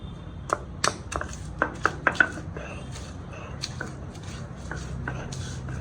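Onion is pounded for shrimp bharta with a series of sharp, irregular strikes, clustered early and spacing out later, over a low background hum.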